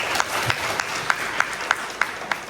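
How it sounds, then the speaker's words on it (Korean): Audience applause after a lecture at a university event, a fairly close, thin round of clapping with several distinct sharper claps standing out at a loose rhythm. "큰 박수 부탁드리겠습니다"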